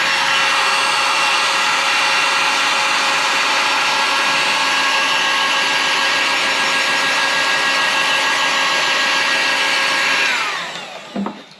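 A heat gun shrinks heat shrink tubing onto wiring for 12-volt power run to a truck bed, blowing a loud, steady, even roar for about ten seconds before cutting off with a brief clatter at the end.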